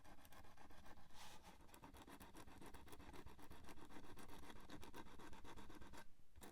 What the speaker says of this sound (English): let's try sanding it and see if that does anything